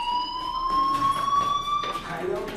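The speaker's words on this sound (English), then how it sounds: "Hey, do you hear that fire alarm?" A school fire alarm in the video game Life is Strange rings with a steady, piercing electronic tone held throughout, over muffled background noise and faint voices.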